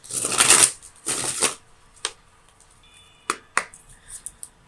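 Tarot cards being shuffled by hand: two brisk riffling bursts, followed by a few light, scattered card taps and flicks, all close and fairly crisp.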